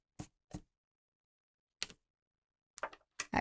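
Several short, sharp clicks from a painting canvas being pressed down during acrylic painting, coming in small irregular bursts separated by silence, close and fairly quiet with no talking.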